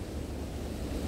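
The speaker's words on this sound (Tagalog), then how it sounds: "malakas talaga yung hangin" Steady, strong wind roars across the microphone, a dense low rumble with no pauses.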